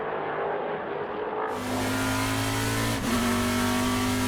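Trans Am race cars, a Chevy Camaro chased by three Ford Mustangs at Laguna Seca, roar at high revs, with a loud engine tone holding steady and shifting once. The sound is continuous and close, and there are no voices.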